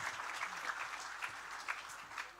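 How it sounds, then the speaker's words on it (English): An audience at a national grand final event claps for a team, a short, faint burst of applause with a few individual claps standing out. "So can we please give the team a massive round of applause?"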